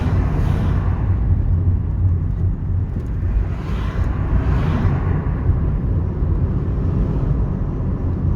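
Car driving, heard from inside as a steady loud low rumble of engine and road noise with no break across the stretch.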